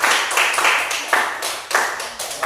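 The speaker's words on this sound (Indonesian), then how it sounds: "Mari kita beri aplaus." A small classroom group claps for group 1 after their presentation, a few seconds of brisk, moderately loud applause with uneven rhythm close by.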